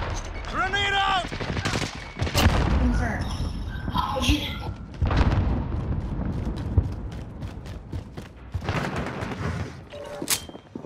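Grenade blasts and rapid gunfire in the Call of Duty: Modern Warfare multiplayer game, with sharp loud bursts near the middle and end over steady battle noise, while players shout callouts throughout.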